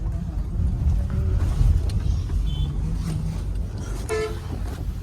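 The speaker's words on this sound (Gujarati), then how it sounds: "પણ એનું ટ્રાફિક તો જોવો તમે." Busy road traffic in Ahmedabad: a constant close rumble of engines, with several short car horn toots and a brighter, louder honk near the end.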